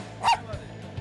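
A German Shepherd cross watch dog gives one loud, sharp bark near the start, then a few fainter yips and whimpers follow over low background noise.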